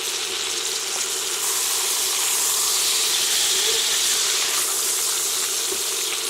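Seabass fillets frying in a hot pan, a steady bright hiss and crackle of oil that holds without a break and stays fairly close.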